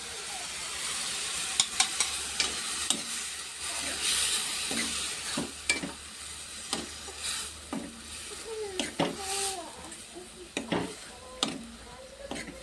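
Fenugreek leaf curry cooks in a pan after chili powder is added, with a soft continuous sizzle broken by repeated clacks and scrapes of a spoon stirring against the pan.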